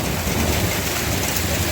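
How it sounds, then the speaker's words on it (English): Heavy hail of pea- to marble-sized stones pelting down hard in a storm, a dense, steady roar of impacts with no gaps, close and loud throughout. "this hail is coming down a lot harder than I've ever seen it hail in Dallas"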